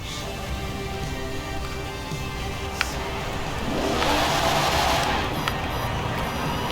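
A 1995 BMW 850CSI with a turbocharged engine, tuned for rear-wheel-drive drifting in Forza Horizon 4, accelerating in second gear, a loud steady engine drone that swells as the turbos build boost.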